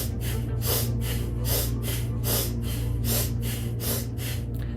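Rapid, forceful breathwork breathing in a seated cat-cow movement, with sharp exhales repeating in a quick, even rhythm of about two to three breaths per second, close and clear over a steady low hum.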